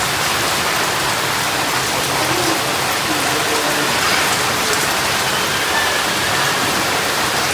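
Heavy rain pours down without a break, a loud, dense, steady hiss of drops hitting surfaces close by.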